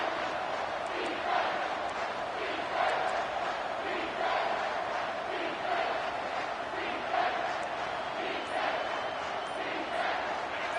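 Stadium crowd roar at a USC vs Wisconsin football game, a steady dense wash of many voices with surging cheers and shouts throughout, loud and continuous.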